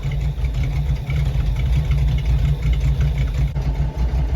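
A 1973 Dodge B100 van engine idling, a loud, close, rumbling low drone that stays steady with a slightly uneven pulse throughout, no voices.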